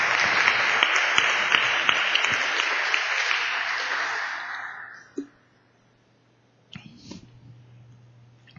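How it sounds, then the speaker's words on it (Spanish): Applause from a church congregation offered to the Lord during a sermon, a dense wash of clapping that fades out after about five seconds, leaving near silence with a few faint knocks and a low hum. "Denle un gran aplauso al Señor"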